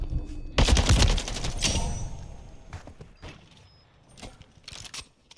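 Assault rifle fire in Call of Duty: Modern Warfare III comes as a dense, loud burst of rapid shots up front, then shorter scattered bursts and clicks trailing off more quietly, with no voices.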